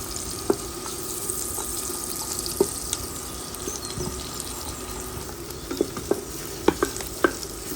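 Finely chopped onion fries with spices in a pan for Goan mutton stew, a steady close sizzle broken by scattered clicks and scrapes of stirring.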